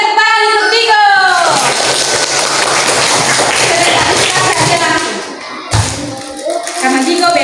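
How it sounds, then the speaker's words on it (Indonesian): Classroom of fourth-grade primary school children clapping together for a classmate, a burst of loud, fast clapping between stretches of children's voices. "tepuk tangan untuk Digo."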